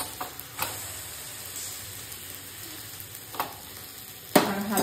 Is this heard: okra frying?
yes